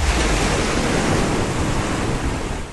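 Ocean waves surging and breaking in a steady, loud roar of surf with wind noise on the microphone, continuous and close throughout with no voices.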